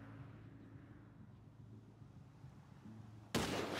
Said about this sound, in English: Now I'm taking the shot.